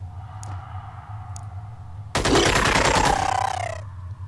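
A burst of rapid gunfire from soldiers in the turn-based strategy game Xenonauts, a dense loud volley lasting about a second and a half after a quiet stretch of low game ambience.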